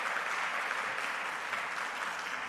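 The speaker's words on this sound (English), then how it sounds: "give yourselves a round of applause" An audience at a green team summit gives itself a round of applause, a steady, even sheet of clapping from a sizeable crowd that holds at the same level throughout without talk.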